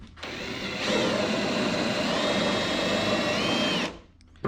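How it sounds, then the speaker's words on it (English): A cordless drill runs steadily for several seconds, drilling out fasteners on a 2007 Toyota 4Runner. It starts at a lower pitch, steps up to a loud continuous whine, then winds down to a stop, with no talking. "we're gonna continue and drilling all these out"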